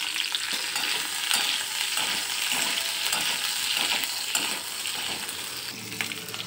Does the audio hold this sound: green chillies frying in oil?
yes